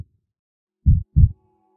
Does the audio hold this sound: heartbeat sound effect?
yes